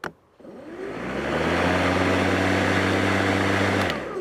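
An EGO 56-volt cordless lawn mower's electric motor spins up from silence into a steady, loud whirring hum with a strong tonal drone, holding constant before cutting off near the end.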